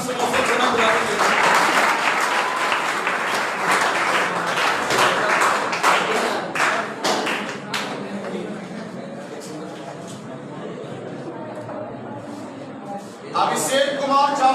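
Audience clapping, a steady wash of applause with dense sharp claps that thins out over time while someone talks over it, then rises again briefly near the end.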